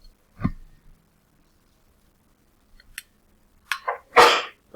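A quiet room with a soft thump, then a short burst of breathy sounds ending in one sharp, close sneeze.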